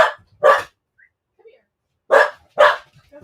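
A dog barks in two close pairs of sharp, loud barks separated by a quiet gap of about a second and a half, with faint small sounds in between.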